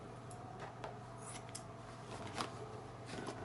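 Scissors snip through about a meter of electrode-application material in a quiet room, giving a few soft, close cuts.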